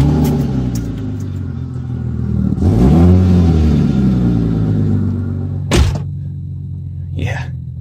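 Car engine with a hole in the muffler cranking and firing up into a loud, raspy, lawnmower-like rumble that revs then settles to a rough idle, followed by a thunk and a brief noise near the end.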